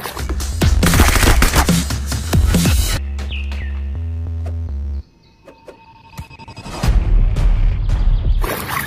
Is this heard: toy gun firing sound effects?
yes